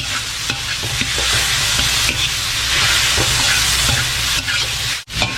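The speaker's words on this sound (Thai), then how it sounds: "ผัดพริกกระเทียมให้หอมนะครับ" Chili and garlic stir-fried in a hot pan, a loud close sizzle with rhythmic scraping and tossing of the spatula, briefly dropping out near the end before resuming, with no voices.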